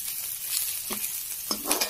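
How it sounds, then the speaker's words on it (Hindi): Green chillies fry in hot oil for a crispy poha chiwda namkeen, giving a faint, steady sizzle with a couple of soft stirring clinks. No one speaks. "अब जैसा कि मैं देख रही हूँ मिर्च भूनने लगी है"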